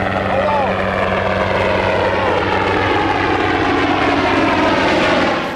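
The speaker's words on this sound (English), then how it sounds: "Even a helicopter coming over is going to fish." A helicopter droning overhead, its rotor thumping and engine whine steady and loud throughout, with a faint voice underneath.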